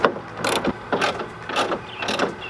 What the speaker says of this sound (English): So what I'm gonna do is take my socket, just lock it down.